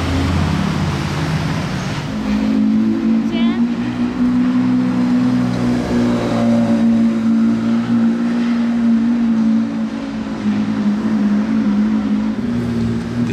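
A McLaren sports car sweeps past on a busy street with a loud, steady engine drone throughout and a brief rising whine partway through, no talk over it.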